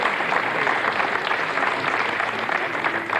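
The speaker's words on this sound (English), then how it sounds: "General applause throughout the Jupiter control room here." Sustained applause fills a rocket launch control room after satellite separation, a dense, steady clatter of many hands clapping at once with no break for the whole stretch.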